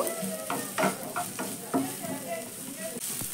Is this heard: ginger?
yes